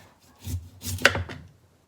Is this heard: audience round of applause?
no